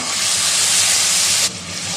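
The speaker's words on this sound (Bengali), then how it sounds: "কড়াইতে এবার দিয়ে দিচ্ছি কালো জিরে ফোড়ন, বেটে রাখা সর্ষে।" Black cumin seeds and mustard paste hit hot oil in a wok and set off a loud, dense hissing sizzle that drops off sharply near the end and then keeps hissing more quietly.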